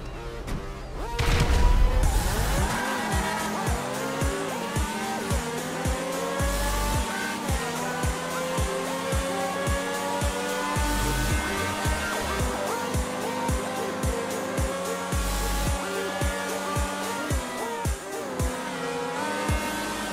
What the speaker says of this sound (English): I'm going to challenge the T20 with the Tyrus to a drag race